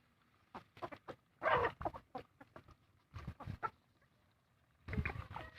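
Laying hens and other chickens in a garden give intermittent close clucks and short squawks in scattered bursts, with quiet gaps between.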